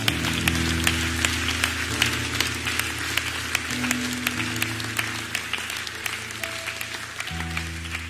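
A church congregation applauds continuously, a dense sustained patter of many hands, while a low hum of sustained music or voices runs beneath it.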